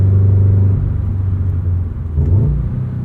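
A Subaru BRZ's aftermarket exhaust rumbles low and steady up close, a muted, subtle drone with a brief rise in pitch near the end, alone with no talk.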